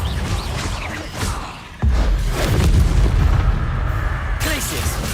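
Bombarda spell detonating in Hogwarts Legacy, a sudden loud booming blast followed by rumbling debris and crackle, with a voice talking over the game audio.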